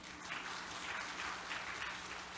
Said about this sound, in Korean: 우리 이선행 장로님이 한국 성서대학교에 입학해서 박수 한번 해줄까요 우리?